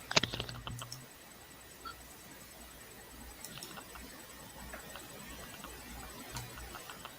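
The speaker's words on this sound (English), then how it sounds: "I hear typing or something in the background" Faint keyboard typing with sparse clicks and taps under a low background hiss, a bit busier at the start.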